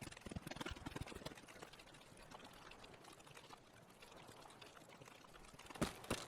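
Sewage water pours steadily from an outflow pipe near a beach in Escape from Tarkov, a continuous broadband splash and trickle with a few louder bursts toward the end.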